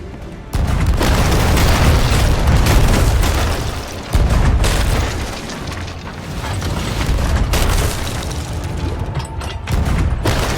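Heavy booming cannon fire from ship guns in Sea of Thieves, loud and close, with several sustained blasts separated by short drops and rumbling tails carrying between shots.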